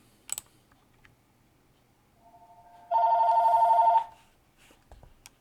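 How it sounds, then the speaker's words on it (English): A mobile phone rings indoors: a faint tone, then a loud steady electronic ring lasting about a second before it cuts off, alone in a quiet room. "That's my phone."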